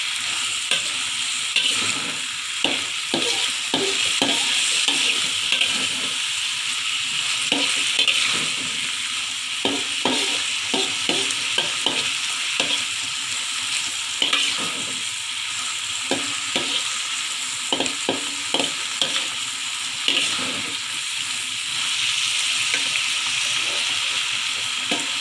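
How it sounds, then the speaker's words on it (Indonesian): Banana blossom frying in a pan, stirred continuously: a steady bright sizzle with repeated scraping stirs of the spatula, close and alone. "Kita aduk terus agar matangnya merata."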